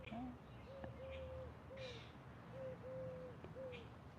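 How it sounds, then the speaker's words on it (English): Wild bird calling outdoors near a home: a few faint, distant whistled notes repeat in short phrases over quiet background ambience. "I heard the bird."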